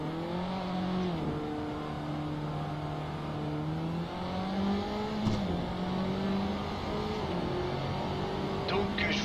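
A race car engine drones and revs through gear changes while lapping a circuit in Assetto Corsa, its harmonic whine rising and dropping under steady talk.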